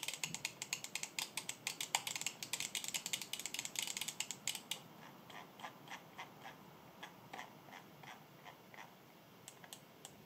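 Rapid bursts of crisp, close clicks from the buttons of a Pulsar X2H eS gaming mouse, dense and quick at first, then slowing to sparser single clicks, with no talking.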